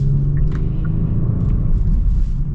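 Steady low rumble inside a 2022 Genesis G70 Launch Edition on the move, constant road and engine drone with no talking.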